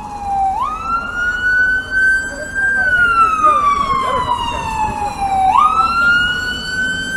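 Loud emergency vehicle siren on a Manhattan street, wailing up and down in long sweeping cycles with a sharp rise near the start and again near the end, over steady city traffic noise.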